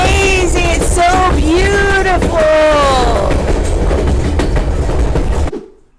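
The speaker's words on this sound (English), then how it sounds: "we're on the White Pass Railroad in the Yukon" White Pass Railroad train in the Yukon rumbling loudly along the tracks with steady rolling noise and a rising, bending tone, continuous for several seconds before fading out quickly at the end.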